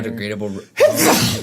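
A loud sneeze bursts out suddenly after a short silence in a lively bar, following a stretch of talk from someone in the group.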